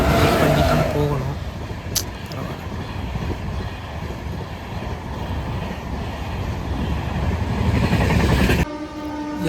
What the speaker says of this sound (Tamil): யா ஃபைனலி ட்ரெயின் வந்துச்சு.